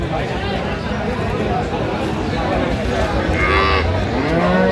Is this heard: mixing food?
no